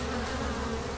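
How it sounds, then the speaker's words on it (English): Honeybees buzzing steadily at the entrance of an all-medium hive during an inspection, a dense continuous drone close to the listener. "there's a good number of bees inside this hive trying to get to work"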